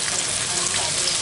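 Corned beef frying with onions in a pan, a brief, loud, dense crackling sizzle heard close up with no voices.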